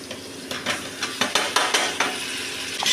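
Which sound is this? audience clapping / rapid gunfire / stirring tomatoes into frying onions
stirring tomatoes into frying onions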